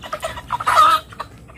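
Chickens cluck close by in short, irregular bursts, one louder squawking call rising in the middle.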